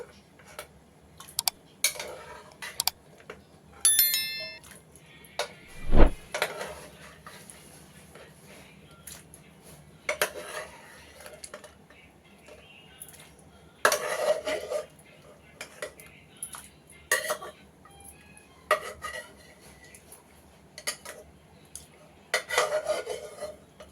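Boiled jackfruit seeds dropped and shuffled in a metal colander in a home kitchen, with repeated clinks, rattles and scraping in short bursts, close and clear, while someone talks intermittently.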